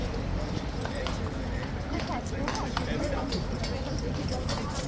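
Horse hooves clip-clopping on hard ground amid a busy crowd, a steady run of close hoof strikes under constant background talk and murmur.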